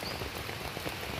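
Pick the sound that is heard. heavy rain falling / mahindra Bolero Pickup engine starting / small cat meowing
heavy rain falling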